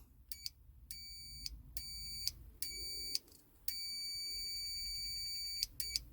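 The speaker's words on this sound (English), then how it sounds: "if I probe the back of the switch with my multimeter in continuity mode, I then press the switch button" Multimeter in continuity mode beeping while probing the back of a Hyundai Santa Fe dashboard switch as its button is pressed, a series of short and longer clear electronic tones, faint and nearby with gaps between them.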